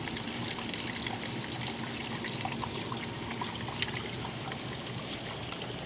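Clear creek water flows and trickles steadily over rocks, a constant close babbling wash with no voices.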